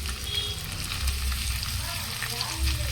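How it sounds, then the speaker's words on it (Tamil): Fish pieces frying in hot oil, a steady soft crackling sizzle that holds throughout, fairly quiet and close. "எங்கள் அம்மாவுக்கு மீன் பொரிச்சு கொடுக்குறேன் நான்."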